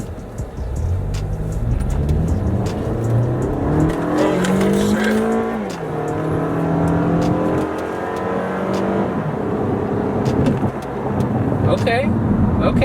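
2019 Toyota Camry XSE driving and turning, its engine rising and falling in pitch as it accelerates and shifts, heard close and steady throughout with faint tire and road noise.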